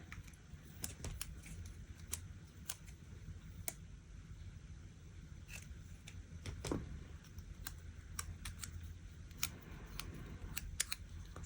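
Scissors snip through planner paper in a quiet indoor craft setting, a steady run of short, crisp cuts spread across the stretch, close and faint, with no talking.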